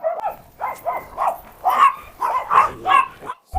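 Many dogs and puppies barking together at a lively outdoor feeding, loud close yips and barks in quick repeated bursts that overlap with little pause.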